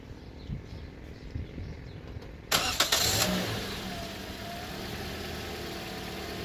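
A 2014 Toyota Corolla engine cranks and catches with a sudden loud burst, then settles into a steady idle hum, heard up close with no talking.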